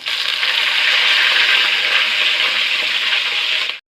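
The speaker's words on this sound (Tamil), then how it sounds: "இதில் காஞ்ச மிளகாயும் கருவேப்பிலையும் போட்டுருவோம்." Dried red chillies and curry leaves dropped into hot oil with roasted lentils in a pan, a loud, close, steady hissing sizzle that holds evenly before cutting off abruptly at the end.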